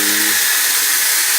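An Antari Ice or Chauvet Hurricane 1800 Flex fogger lets out a burst of fog as a loud, continuous, close hiss that fills the short moment with no pauses, after a brief low hum at the start.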